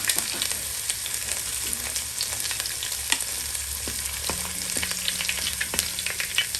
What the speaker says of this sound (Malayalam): ഉള്ളി നന്നായിട്ടൊന്ന് മൂപ്പിച്ചെടുക്കണം